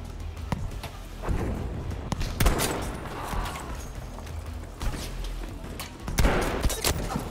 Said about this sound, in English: STG, that's a real good assault rifle, by the way